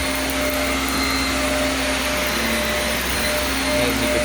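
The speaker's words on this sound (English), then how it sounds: "I decided to come do some vacuuming while I wait" A Shark vacuum cleaner runs at close range on dirty carpet, its loud, steady motor whine and airflow roar unbroken and unchanging throughout, with no voices.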